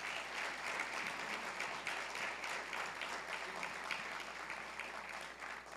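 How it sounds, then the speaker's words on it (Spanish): Audience applause at a university lecture on seismic-resilient structural design with isolation technology, a steady, fairly distant wash of many hands clapping for the whole stretch. "un fuerte aplauso"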